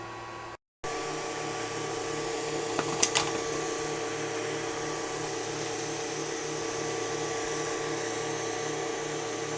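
Atomstack A30 Pro laser engraver with air assist running while engraving 1/2 inch thick cedar, a steady close whirring hum of the air pump with faint brief ticks, continuous after a momentary dropout at the start.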